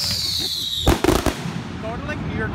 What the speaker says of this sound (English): These are literally like some of the best fireworks I've ever seen.